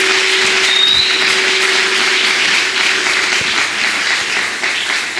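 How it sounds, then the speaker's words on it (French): A church congregation applauds after scripture, a loud, dense and sustained clapping roar with a steady tone humming beneath it for the first few seconds, then gradually fading near the end. "On peut s'asseoir et on applaudit pour la parole du Seigneur."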